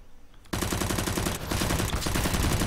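Automatic rifle fire in Counter-Strike: Global Offensive rattles in a loud, dense, rapid burst that kicks in abruptly after a quiet start and keeps going in close sustained volleys with only brief dips, no talking over it.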